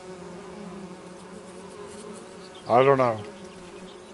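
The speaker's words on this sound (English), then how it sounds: "I hear bees, but I have no way of knowing if this thing's actually producing honey." Bees drone steadily in Farming Simulator 25 on a calm farm map, a continuous insect hum under a brief spoken phrase near the end.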